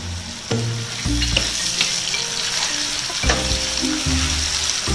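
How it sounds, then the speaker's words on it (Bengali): Green chillies and ginger with spices frying in a pan, a continuous close sizzle broken by scraping and knocking as the mixture is stirred. "মশলাটাকে ভালো করে নেড়ে নেড়ে ভেজে"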